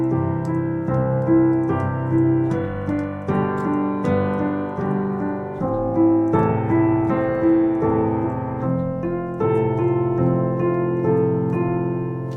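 Piano playing chord accompaniment with inversions and a melody on top, a steady rhythmic sequence of sustained chords in regular pulses, close and clear, with no talking.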